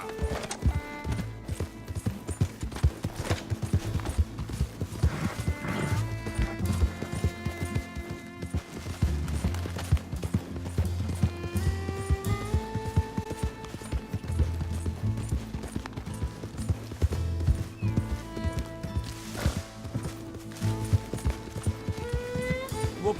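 A horse trots with steady, repeated hooves clip-clopping throughout, set under continuous western-style music.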